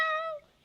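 A person's voice imitates a cat with a single short, clear meow, close and fairly quiet, fading out quickly after about half a second.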